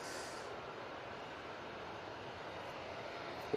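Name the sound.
Qatar Airways airliner departing from Manchester Airport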